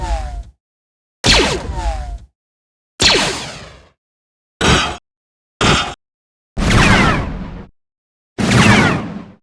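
Star Wars LAAT gunship sound effects come as seven separate bursts: sharp blasts and roaring whooshes with short silences between them, loud and close, no voices.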